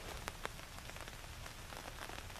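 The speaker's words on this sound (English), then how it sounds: "Started raining again." Rain falls steadily on a hammock at an outdoor Texas bushcraft camp, a close, dense patter with occasional louder individual drops and no talking.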